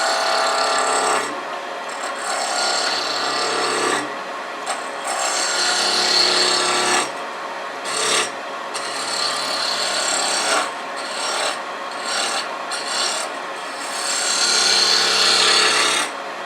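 Parting tool cutting a tenon into a wood spindle turning between centers on a lathe, a steady scraping rasp that rises and falls in bursts with short pauses, close and fairly loud with no talking.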